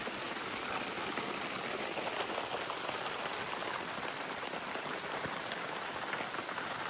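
Heavy monsoon rain pours down over a rice field in a dense, even hiss, drumming on surfaces nearby without a break.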